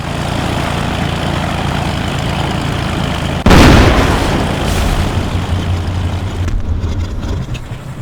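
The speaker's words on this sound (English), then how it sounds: "it involves stalling your plane and crashing" A plane stalling and crashing in DayZ, with a steady engine drone breaking into a sudden loud crash impact midway, followed by a rumbling, fading aftermath.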